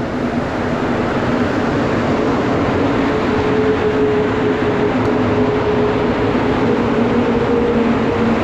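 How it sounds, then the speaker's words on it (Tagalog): A metro train pulls into a station in Montreal, a loud steady rumble close by with a rising tonal whine from the motors and brakes, continuous and without talk. "Parating na ang tren."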